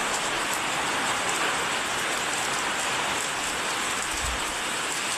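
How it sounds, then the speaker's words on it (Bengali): A downpour of heavy rain makes a constant loud wash of drops, with one soft low thump near the end and no talking. "ভালো বৃষ্টি হয়েছে।"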